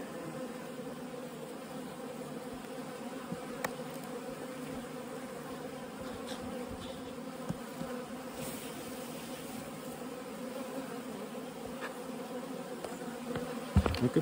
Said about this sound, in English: Look at these robbing bees.